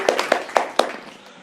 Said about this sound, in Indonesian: Wih, tepuk tangan lu.